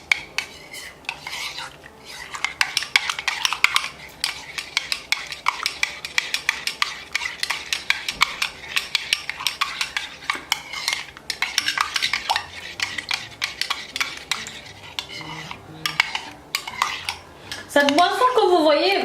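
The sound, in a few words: stirring a coffee drink with a spoon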